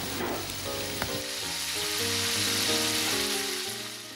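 Chopped carrot and onion frying in a pan for ossobuco with peas, giving a steady, dense sizzle throughout, close up, with a few faint stirring clinks and no talking.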